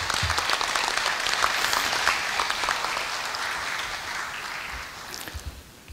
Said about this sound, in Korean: 뜨거운 박수로서 감사의 뜻을 전하고자 합니다